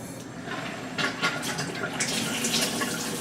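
Water streams steadily from a tap through a switchable faucet filter gadget, a continuous close hiss of flow that grows slightly fuller and brighter partway through, with no talking.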